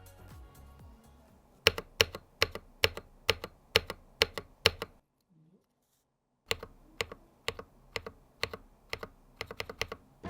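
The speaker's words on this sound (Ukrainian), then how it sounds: "давайте проведемо тест, наскільки пробіл стає тихішим разом з нею" Spacebar on a Hator Rockfall Mecha 2 TKL mechanical keyboard, tested with and without a dampening pad, pressed in a steady run of sharp, loud clicks, a pause of silence, then another series of close keystrokes.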